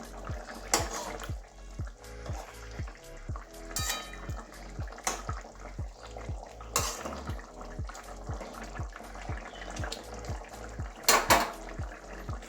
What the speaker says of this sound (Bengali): মাছগুলো এদিক ওদিক করিয়ে নিয়েছি, সেটা দেখানো হয়নি আপনাদের, তাও আর একবার করে দিচ্ছি